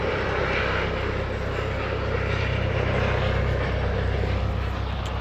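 A gendarmerie helicopter circles low over a house, its engine and rotors making a steady, loud, continuous drone that fills the whole stretch with no voices over it.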